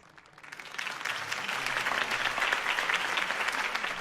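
Applause from a crowd in the video game Batman: The Telltale Series swells up over the first second and then holds as a steady, full clapping roar.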